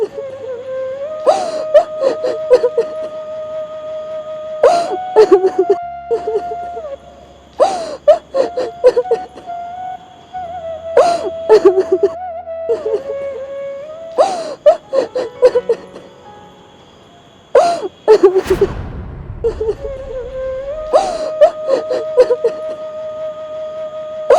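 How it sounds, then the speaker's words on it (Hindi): Someone cries with whimpering sobs and wails in repeated bursts over steady background music. "किसी के रोने की आवाज आ रही है वहां से।"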